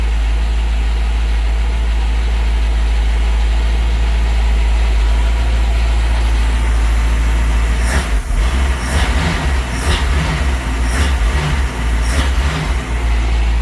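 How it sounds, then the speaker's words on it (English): A boat engine idles loudly and steadily with a deep rumble, then sputters and surges in uneven bursts toward the end. "I got the boat running"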